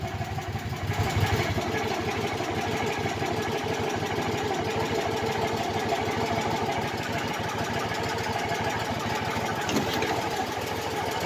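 Landmaster LM650 utility vehicle engine idling right after a cold start: a steady, close, rumbling idle with a low mechanical chug that runs unbroken and holds an even level throughout.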